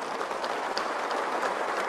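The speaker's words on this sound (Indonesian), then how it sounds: "Tepuk tangan lagi." Dense, steady audience applause at an Indonesian presidential inauguration ceremony honoring Prabowo Subianto, a continuous wash of many hands clapping with no voices over it.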